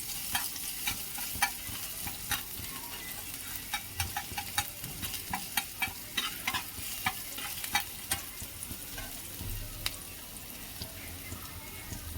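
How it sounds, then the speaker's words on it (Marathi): Ginger, garlic and half a green chili sauté in a hot pan, a soft continuous sizzle broken by frequent sharp spatula clicks and scrapes against the metal, close by and without speech. "अद्रक लसूण आणि थोडीशी अर्धीच मिरची घेतली आहे कारण जास्त तिखट लागेल दोन मिनटं दोन तीन सेकंद असं परतून घ्यायचं"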